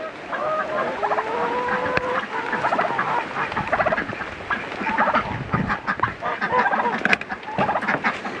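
A group of backyard chickens clucks close by in busy overlapping calls under steady rain, with scattered sharp knocks and shuffling among the birds.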